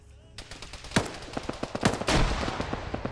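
Rapid gunfire bursts and sharp explosive blasts from a multiplayer shooter video game, dense and loud, with repeated shots throughout and a heavier grenade-like boom near the middle.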